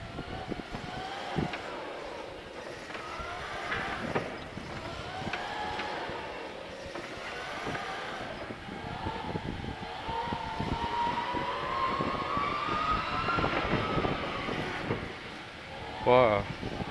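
Doosan forklift truck starting and driving forward through a slalom, its faint motor whine rising and falling with each turn under a voice.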